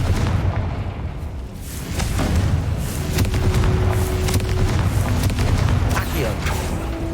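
Confringo blasting spells go off in Hogwarts Legacy as loud, rumbling explosive booms over a dense game soundscape, with a brief tonal hum partway through.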